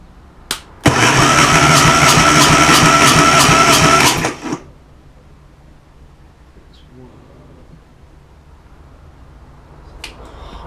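A 1988 Classic Mini engine with no carburettor or inlet manifold cranks over on the starter for about three and a half seconds, a loud, even rhythmic churn that stops abruptly, followed by near quiet and a couple of faint clicks.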